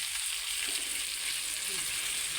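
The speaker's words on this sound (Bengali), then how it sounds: "এভাবে ভাজতে হবে" Dough and egg snack, made from a cup of flour and one egg, frying in hot oil with a steady, fairly quiet sizzle throughout and no talking over it.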